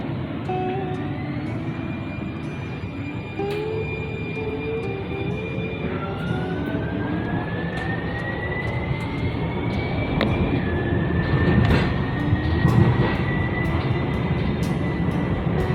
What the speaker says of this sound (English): This is the Max train.